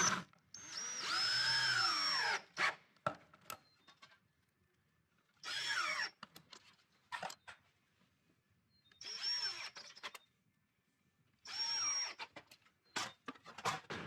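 Power drill driving 1 3/4-inch screws straight down into a pipe while building a washer toss game, four loud whirring bursts of a few seconds each separated by silences and short clicks, close up.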